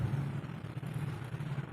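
Mixer grinder blending pearl millet batter with added water, a steady close motor whir with a low hum running continuously and evenly throughout, no talking.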